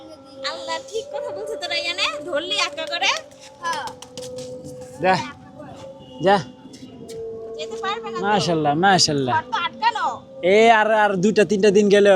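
Pigeons on a farm coo in low, throaty bursts that recur through the recording, mixed with other bird calls, while people talk over them almost all the way through.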